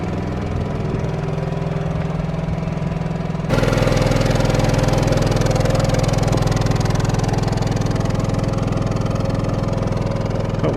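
An Onan Cummins QG 2500i LP propane generator on an RV runs at a steady idle-like drone, growing noticeably louder and fuller a few seconds in, then holding an even hum to the end.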